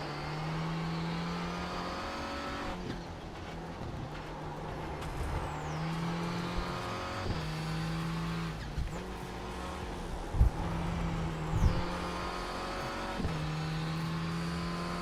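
A Mazda MX-5 race car drives on track during a 24-hour race shakedown, its engine droning steadily with repeated pitch drops at each upshift and occasional thumps, heard from onboard.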